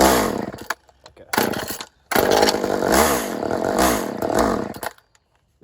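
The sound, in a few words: chainsaw starting and running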